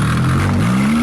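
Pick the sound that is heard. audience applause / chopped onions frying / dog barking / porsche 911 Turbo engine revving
porsche 911 Turbo engine revving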